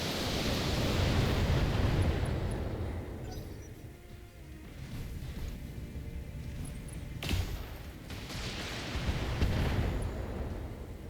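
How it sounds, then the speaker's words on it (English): Mech weapons firing in the BattleTech video game, a dense, rumbling barrage of booming impacts with a sharper burst partway through, loud and sustained throughout with no voices. "Firing all weapons"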